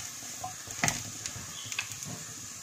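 Onion and dried coconut are sautéed in a pan, a steady close sizzle with a few spoon taps and scraping stirs.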